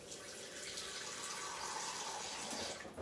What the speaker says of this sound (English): So all I'm going to do is I'm going to just fill this with a little bit of water.